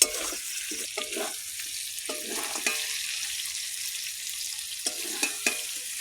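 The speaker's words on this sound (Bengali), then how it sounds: "এমনভাবে মাংস রান্না করতেছি" Chicken meat being cooked and stirred in a pan: a continuous sizzle with intermittent scraping strokes of a spatula, steady and close, with no voices.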